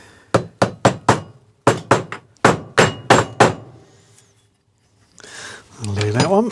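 A hammer tapping a bearing into a bench grinder housing in a workshop, with sharp metallic strikes in quick bursts of four, a pause, then another run of taps, followed by a brief voice.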